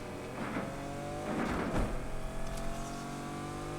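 Acura RSX-S engine in Need for Speed Unbound revving toward redline, a steady droning engine tone with rising swells and a louder surge near the middle, continuous and close.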